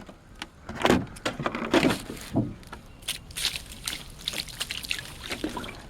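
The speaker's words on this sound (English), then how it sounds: "Pour water all over it." Water poured over a salted top round steak to rinse it, irregular splashing trickles and sloshes with a few louder bursts early on, then lighter dribbling and handling noises, close by and without talk.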